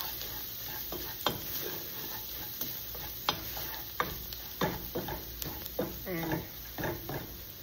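Spaghetti and sauce are stirred in a pan over soft sizzling, with repeated scraping and tapping strokes of a utensil at an uneven pace, close up; a voice speaks faintly.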